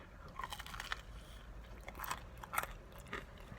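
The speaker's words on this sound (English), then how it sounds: "So the crust on the end right there is a little crunchy" Several close, crisp crunching bites into Pizza Hut pizza crust, a few seconds of chewing with sharp cracks scattered irregularly over a quiet background.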